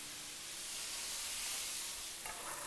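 Cannellini beans and fresh thyme tipped into a pan of sizzling onions, garlic and fennel, giving a soft, steady hiss of frying that swells briefly near the end.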